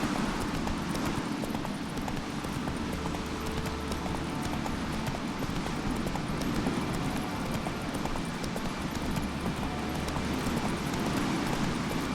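Hooves of Roach, a horse in a video game, clip-clopping in a steady continuous gait at close range over a rumbling background, with no talking.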